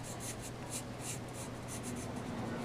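A pencil scratches steadily across paper in quick, repeated strokes while tracing a portrait for a lino block print, close and continuous, with no talking.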